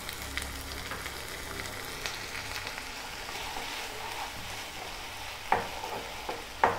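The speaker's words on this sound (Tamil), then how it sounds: "இது நல்லா பச்சை அரைச்சிருக்கனால கொஞ்சம் நல்லா ஃப்ரை ஆகணும்" Ground paste of one tomato and three red chillies fries in a pan for mushroom noodles, sounding as a low, even sizzle with faint stirring and a couple of sharper clinks near the end.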